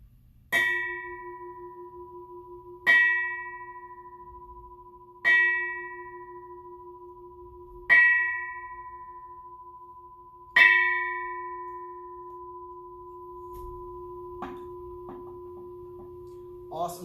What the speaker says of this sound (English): we will conclude by ringing the bell 5 times